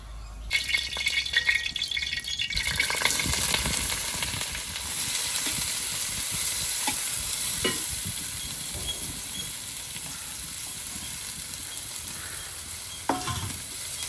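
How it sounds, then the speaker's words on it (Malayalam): Fennel seeds sizzle and crackle in hot coconut oil in a pot for a chicken curry, a steady close frying hiss with scattered sharp pops and occasional stirring clinks. "ഉരുളി അടുപ്പി വെച്ചു, വെളിച്ചെണ്ണ ഒഴിച്ചു കൊടുത്തു. കുറച്ച് പെരിഞ്ചീരകം ഇട്ട് കൊടുക്കുന്നുണ്ട് ഒരു മണത്തിന്."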